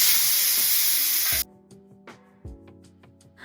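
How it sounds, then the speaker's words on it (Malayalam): Water from cooked millet pasta pours loudly through a steel strainer in a steady rushing hiss that stops abruptly, followed by a few faint metallic clinks and taps. "ഈ കുക്കായ പാസ്ത നമ്മൾ ഒരു സ്റ്റീലിൻ്റെ സ്ട്രെയിനറിലൂടെ ഒന്ന് അരിച്ചിട്ട് മാറ്റി വയ്ക്കാം."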